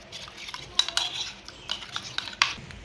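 A spoon stirs cornflour and water in a bowl, making soft scraping with several sharp clinks against the side, close and fairly quiet.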